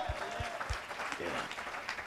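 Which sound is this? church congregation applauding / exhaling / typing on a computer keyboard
church congregation applauding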